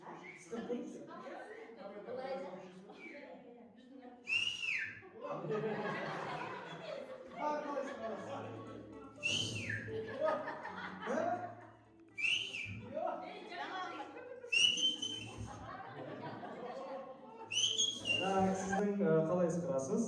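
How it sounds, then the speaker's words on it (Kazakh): At a 45-year class reunion, several people take turns giving short rising whistles that break in every few seconds between lively talk, chatter and chuckles. "Сіз қалай ысқырасыз? Көрейік."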